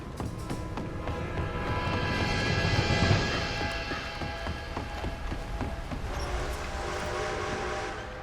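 An approaching train in Red Dead Redemption 2 rumbles steadily with rhythmic clatter of wheels on rails, swelling louder midway and holding on without any talk.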